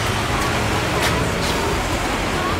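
Road traffic rumbles along a street in Japan, with a truck passing in a steady, fairly close wash of engine and tire noise, with brief swells as vehicles go by.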